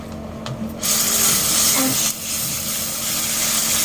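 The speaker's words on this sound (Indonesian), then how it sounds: "ini kita haluskan bumbu yang dihaluskan" Spice paste is blended in a kitchen, a steady electric whine and grinding hiss that starts abruptly after a moment and runs continuously to the end, with no talk over it.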